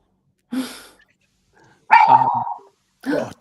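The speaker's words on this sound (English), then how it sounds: "He's setting off the dog." A dog gives three separate barks, loud and close, with short silent gaps between them and nothing else heard.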